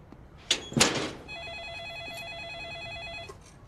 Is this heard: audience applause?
no